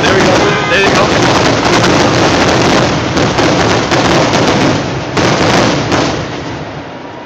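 Fireworks finale with dense, continuous booms and crackling bursts filling the whole stretch, loud and sustained before easing slightly at the end, with crowd voices mixed in.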